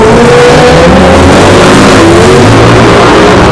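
A motorbike engine revving hard on a crowded city street, loud and close, a steady roar with rising and falling pitch as the throttle opens and eases, no talk over it.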